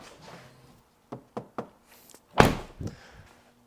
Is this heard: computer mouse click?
no